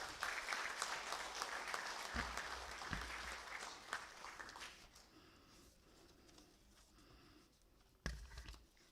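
Round of applause welcomes Sanjay Kumar at an ISRO space event, a fairly faint crowd clapping that thins and dies away after about five seconds, leaving near quiet broken by a low thump.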